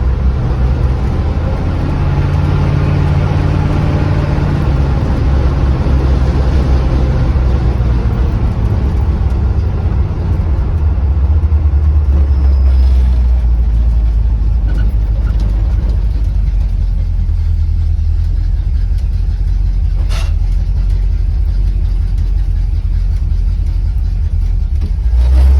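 A 1976 Chevy square-body pickup truck drives steadily, its engine loud and close as it pulls through gear shifts, revving up and dropping back with a continuous low rumble and no talking.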